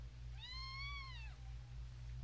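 A kitten gives a single clear, drawn-out meow, close and fairly loud against a quiet background with a low steady hum.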